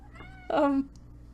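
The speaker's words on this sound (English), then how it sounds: "that's my cat." A single short, clear meow from a nearby cat, with quiet surroundings before and after.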